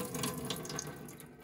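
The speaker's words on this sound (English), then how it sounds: "you want to empty the fresh water with the blue tap and also empty the gray water" Water running from a tap in the kitchen of an Elddis Accordo 120 caravan: a soft steady splashing stream into a sink, fairly quiet and close, with no voices.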